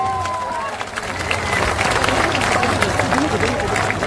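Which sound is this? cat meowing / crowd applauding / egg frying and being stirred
crowd applauding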